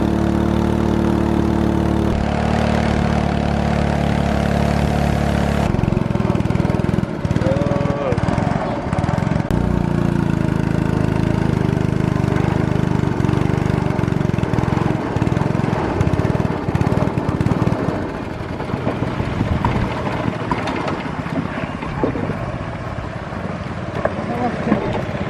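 An outboard motor drives a canoe along a river on Siberut, a continuous mid-pitched engine drone running throughout with shifting tone, water and wind noise, and people talking over it at times.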